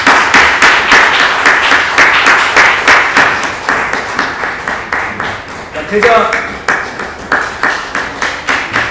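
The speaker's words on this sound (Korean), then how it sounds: "나가실 때 힘차게 박수 해주시기 바랍니다" A graduation ceremony audience applauds loudly as professors and graduates file out, with clapping that fades slightly midway while someone briefly speaks over it.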